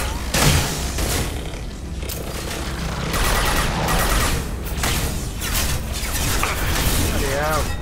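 Enemy gunfire in Mass Effect 2 crackles in repeated bursts through loud, cluttered combat noise, with a voice talking over it.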